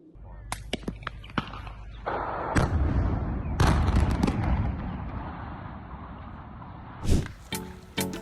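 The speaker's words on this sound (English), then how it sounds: "A 600-foot chimney at a power plant in Scotland was demolished in a controlled explosion" A 600-foot power plant chimney in Scotland brought down by controlled explosion: sharp blasts followed by a long, heavy rumble of collapse lasting several seconds, then further loud bangs near the end.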